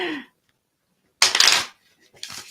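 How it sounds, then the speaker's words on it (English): Two quick riffle shuffles of playing cards, each a crisp, close fluttering burst, separated by silence, with a brief voice at the start. "I'm going to do a classic ASMR poker shuffle."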